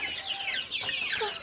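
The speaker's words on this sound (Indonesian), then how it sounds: "Nah, ini ayam larmot." A Larmot chicken, a breed of Indonesian village fowl, clucks in a short run of close, busy, chattering calls with soft background noise.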